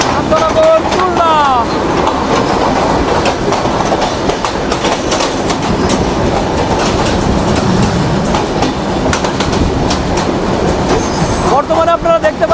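An intercity Turna Express meter gauge train passes close by on a crossing with a broad gauge track, a steady loud rumble of wagons with rhythmic wheel clatter and brief high squeals near the start and end.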